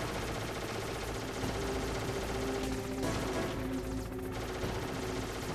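Dense, continuous gunfire in Metal Gear Solid, a sustained barrage of rapid shots blending into a loud, unbroken roar for several seconds.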